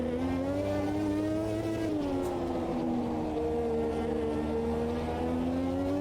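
A turbocharged Formula 1 car in a video game laps Monza at full turbo boost, its engine holding a steady, loud, high-pitched drone that dips slightly and climbs again, continuous with no speech.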